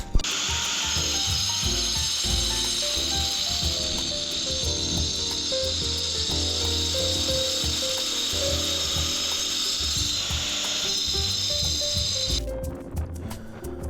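A concrete cutter grinding off a protruding section at a work shed, a loud, steady high-pitched whine with rough grinding texture running continuously before cutting off abruptly near the end.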